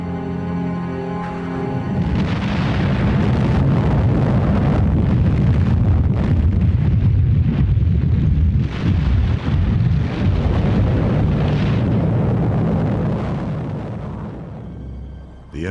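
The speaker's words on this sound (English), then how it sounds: "the Americans dropped the first atomic bomb on the Japanese city of" The atomic bomb explodes over Hiroshima in August 1945: after a brief quiet start, a massive blast erupts into a loud, sustained, rumbling roar that slowly fades near the end.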